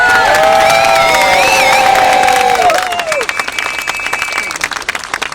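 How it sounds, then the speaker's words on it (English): A lively outdoor crowd at a rally at Speakers' Corner, Hyde Park, London, cheers loudly with high shouts and whoops, then sustained clapping continues as the cheering fades. "Everyone, big round of applause!"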